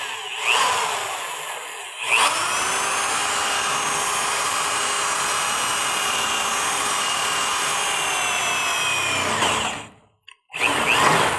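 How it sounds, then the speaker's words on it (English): A drill fitted with a larger bit bores through the sheet metal of a 1965 Mustang's radiator core support, giving a loud, steady high whine for about seven seconds before cutting off, followed by a short final burst. "Now I'm going to change out my drill bit to the larger size so we can cut these out."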